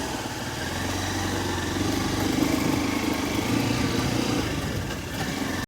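A motorcycle engine runs steadily up close, a continuous buzzing drone that holds throughout before cutting off abruptly at the end.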